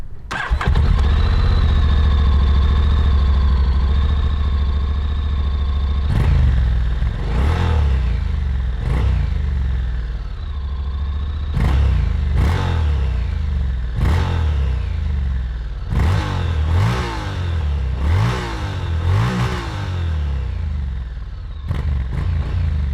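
A 2021 Honda Forza 750 maxi scooter engine idles loudly, then revs repeatedly in sharp bursts, each rev rising and falling quickly, close by and with no talking.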